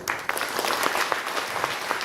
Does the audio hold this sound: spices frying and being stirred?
no